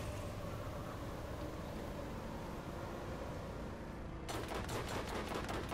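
Bandits open fire in the Borderlands video game, a rapid burst of crackling gunfire breaking in near the end over a steady wash of ambient game noise.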